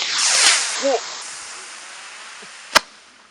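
Hand-lit firework hisses loudly as its fuse burns, then a sustained fizzing whoosh trails off, ending in one sharp distant bang; a brief voice sounds in between.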